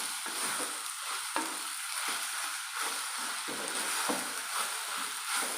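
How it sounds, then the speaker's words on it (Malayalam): Taro stems and stalks sautéing in hot oil for a trostem pickle, a steady broadband sizzle with periodic stirring scrapes and soft clunks repeating every second or so, close and continuous with no talking. "ആ എണ്ണയ്ക്കകത്ത് കിടന്ന് നല്ലപോലെ ഒന്ന് വഴന്ന് വരണം നമ്മുടെ ഈ ചേമ്പും താളും."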